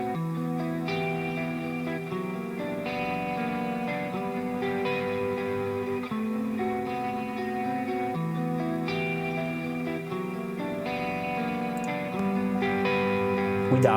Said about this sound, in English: With the reverb, basically it would sound like this.